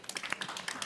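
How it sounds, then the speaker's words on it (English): Applause at a conference session on transport decarbonization in Africa: a brief burst of audience clapping, many hands patting in an uneven rapid rhythm, fairly quiet and with no voices over it. "Let's give him applause."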